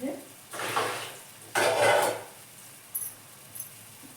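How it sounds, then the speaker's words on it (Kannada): Spices for a palya tempering hit hot oil in two loud, broad sizzling bursts, each lasting under a second, then fade to a faint background with a few small clinks. "ಈಗ ಈಚೆ ಕಡೆ ಸಾರಿ ಒಗ್ಗರಣೆ ಕೊಡ್ತೀನಿ"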